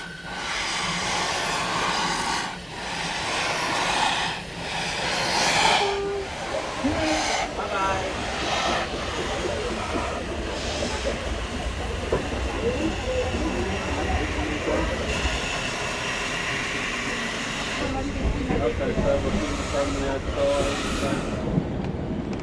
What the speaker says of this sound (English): Spewing clouds of steam, the train chugs out of Railp Station, ready to cross the railway pass to Oberwald.